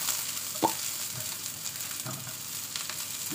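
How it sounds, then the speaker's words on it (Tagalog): Garlic and then onion frying in a hot pan (kawali), a steady soft sizzle throughout with a couple of brief stirring clinks, no talk. "ilalagay na natin ang ating bawang dahil mainit na yan. Dahil mainit ang ating kawali kanina. Ayan, sunod natin ang ating sibuyas"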